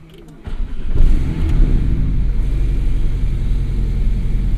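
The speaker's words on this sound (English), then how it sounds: "Definitely has a much throatier idle" A tuned 2017 Porsche 718 Boxster S with an MTM-tuned four-cylinder engine and PDK gearbox starts and settles into a deep, throaty idle, a steady low rumble close by after a brief catch at the start.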